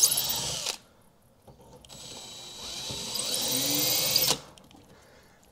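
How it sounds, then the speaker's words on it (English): A power drill with a 2mm bit whines in two bursts while marking a car boot lid, a short one and then a longer steady run that stops abruptly, close and loud. "just grab yourself a drill. I've just got a 2mm bit in here."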